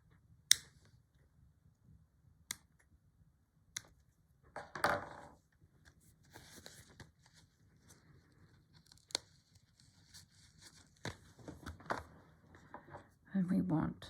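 Scissors snip a piece of lace in a stitchery journal session, giving sparse sharp clicks and a short rustling cut, close and quiet between pauses, with some soft handling noise.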